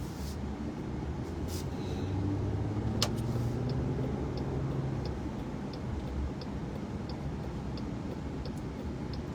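Busy street traffic on a congested road, a steady wash of passing cars with engine rumble and a few faint ticking clicks, heard at moderate distance without talk.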